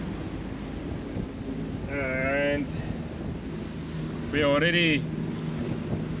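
The engine of a Leopard 45 catamaran runs at higher RPM, giving a steady low drone under the wind. A person speaks briefly over the sound twice.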